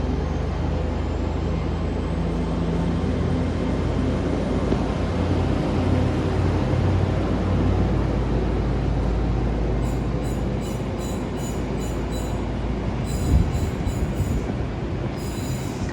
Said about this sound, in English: Departing out now is the 1248 Great Western Railway service from Exeter St Davids